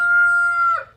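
A rooster crows once among backyard chickens, a loud, close, sustained tonal call that breaks and fades at the end, with faint low clucking and murmuring underneath.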